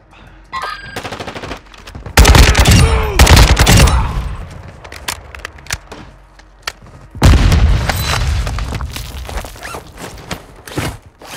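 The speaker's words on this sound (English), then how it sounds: "I'm taking fire!" Loud, close bursts of rapid automatic gunfire with heavy booms in Call of Duty Modern Warfare II, two long dense volleys separated by scattered single shots, with no talk.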